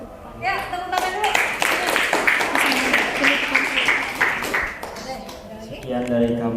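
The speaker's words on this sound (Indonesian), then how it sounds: "Ya, tepuk tangan dulu." An audience at a Ramadan school religious talk claps together in a brisk, fairly close burst of applause that holds for several seconds, with voices heard at the start and end.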